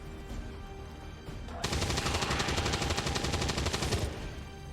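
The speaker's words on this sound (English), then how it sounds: "Just shooting some basically zombies." Rapid automatic gunfire in the video game XCOM 2 while zombies are shot, a dense, even burst of rattling shots that starts abruptly and runs for over two seconds, over a low game background.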